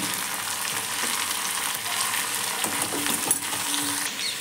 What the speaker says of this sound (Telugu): ముందుగా ఒక కళాయి తీసుకొని కొంచెం ఆయిల్ వేసుకొని దాంట్లో పచ్చిశనగపప్పు వేసుకొని బీన్స్ వేసుకోండి.